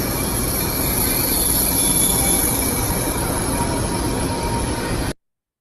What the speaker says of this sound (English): a nice high-speed train, and it's very cool